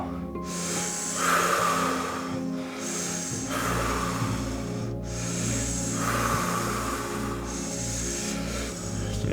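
Rounds of deep, rhythmic breathing during a guided meditation: slow, loud, close inhales and exhales cycling steadily, each breath a broad airy rush, over a sustained low background hum with no talking.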